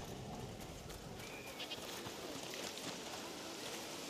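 Goats in A Plague Tale Requiem bleating faintly amid quiet game ambience, a couple of brief thin calls set back in the mix over a low steady background.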